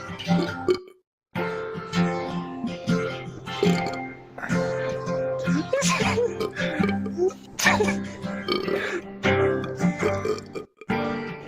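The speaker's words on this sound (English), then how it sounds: "I play the guitar and you burp to it." Long, loud burps are drawn out almost nonstop over guitar playing, close up, with brief gaps and people talking alongside.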